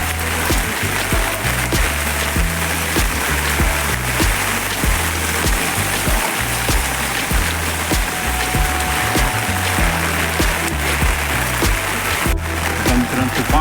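Heavy monsoon rain in Dombivli falling in a loud, continuous close-up roar of drops on surfaces, with deep rumbling underneath and a faint voice at times.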